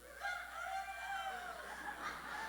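An audience at a church plenary session imitates a rooster crowing, several voices overlapping in rising and falling crows that fill the room together.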